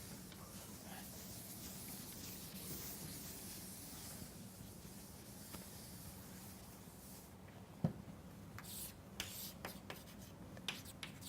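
A hand writes steadily, a faint continuous scratching and rubbing under quiet room hiss. A few small taps come near the end.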